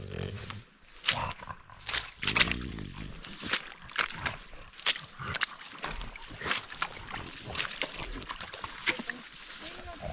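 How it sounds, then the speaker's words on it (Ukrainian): Water sloshing and splashing as someone wades across a forest stream while out mushroom foraging, with uneven steps and splashes mixed under frequent nearby talk. "Нам треба перейти через цей струмок."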